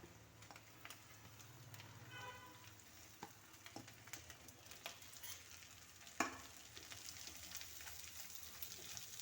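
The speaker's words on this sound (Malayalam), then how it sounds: "നല്ലപോലെ ഇളക്കി സവാള നല്ലപോലെ വഴണ്ട് വരണം" Onion being fried with green chillies in a pan for a Kerala egg roast, a faint steady sizzle with occasional stirring clicks and scrapes, no talking.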